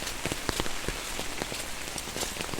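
Heavy rainfall pours down in a dense, continuous hiss, with distinct drops pattering hard on a nearby surface throughout, loud and unbroken with no voices.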